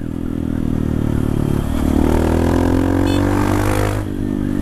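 A 2019 Honda Titan 160 motorcycle engine revving up close, a loud steady drone that climbs in pitch as the throttle opens, holds, then eases back toward idle near the end.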